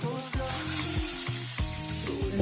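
Food browns in a hot pan in a home kitchen, a continuous soft sizzle and crackle under a faint low hum, with no one speaking.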